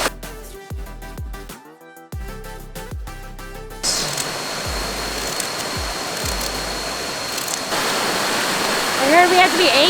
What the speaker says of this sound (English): Little waterfall in the background.